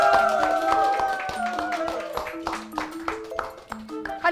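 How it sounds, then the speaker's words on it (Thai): Scattered handclaps from an audience ring out as sharp taps under a bright tonal melody, mixed with faint crowd noise. "ขอเสียงปรบมือด้วยครับ"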